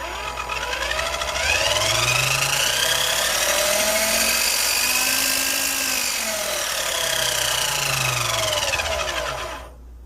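An electric motor in a Tamiya Lunch Box RC car whines loudly as the throttle is worked, its pitch swooping up and down in several smooth sweeps before cutting off abruptly at the end.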